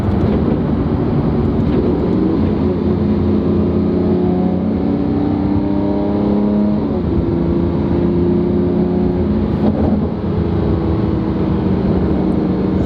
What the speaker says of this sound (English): The backfire.